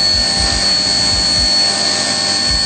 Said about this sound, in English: It's chamfering the edges where the connecting rod goes on, and now it's going to do the outside chamfer